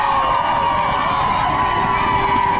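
Marathon spectators crowd Tower Bridge in London, their cheering a dense, steady roar that stays loud and unbroken throughout with no single voice standing out.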